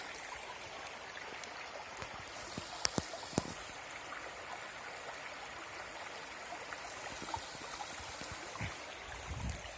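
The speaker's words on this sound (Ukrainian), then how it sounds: "тиша, чути як водичка тече." A stream trickles and burbles softly in a quiet forest setting in the Skole Beskids, Ukraine, with a few small splashes and clicks over the gentle flow.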